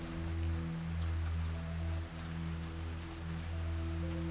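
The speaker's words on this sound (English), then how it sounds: "the rain pouring off of his hat as he does" Heavy rain pours steadily around a parked police car at night, a continuous dense wash with a low steady hum beneath it, close and unbroken throughout.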